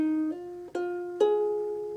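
Ukulele plucking a short repeating interlude melody, three clear picked notes ringing out in sequence, close and solo with no voices.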